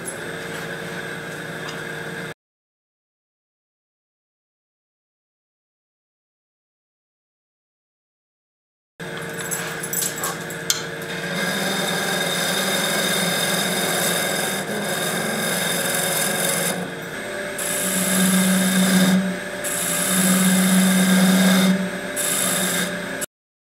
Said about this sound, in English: I'm gonna go back to my quarter inch bowl gouge, take off some of this mass